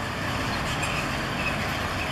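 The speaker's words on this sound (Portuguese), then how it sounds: "É, o caminhão vai." A truck drives through a busy bus station in Jundiaí at Christmas time, its steady engine rumble and road noise holding at a constant level throughout, with traffic around it and no voices.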